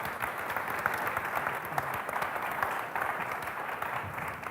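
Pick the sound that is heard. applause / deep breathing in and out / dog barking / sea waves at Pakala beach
applause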